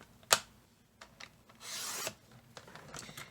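A blade or cutter slices a half-inch strip off a card base, giving a soft rasping rub and a brief sharp snap, quiet and close with no talk.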